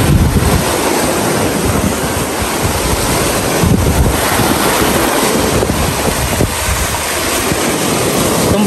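Ocean waves washing onto a sandy beach by a coconut farm in San Francisco, Quezon, a loud continuous roar of surf with heavy wind buffeting the microphone, no talk.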